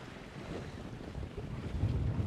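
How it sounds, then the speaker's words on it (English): Wind gusts across the microphone outdoors during small-boat sea trials, a low roaring rumble building in strength toward the end, with water sounds faintly beneath. "Another gust coming."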